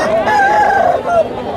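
A rooster crows at a country chicken market in Anakapalli district: one sustained, tonal, rising-and-falling call that carries nearby over a steady background of market chatter.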